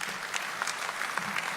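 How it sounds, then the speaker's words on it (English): An audience at a county address event gives a short burst of steady applause, fairly even clapping from a crowd with no voices over it. "So please give Danny a warm round of applause."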